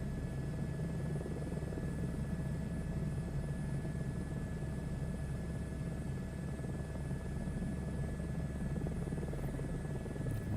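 A helicopter in flight, its rotor and engine producing a continuous loud, even drone with a rapid low thump, heard steadily from inside or very near the aircraft, with no talking.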